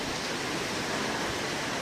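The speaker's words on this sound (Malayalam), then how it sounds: "പുറത്ത് നല്ല മഴയാണ് കേട്ടോ" Heavy rain falls outside in a steady, dense hiss with no breaks, close and fairly loud, and no voices over it.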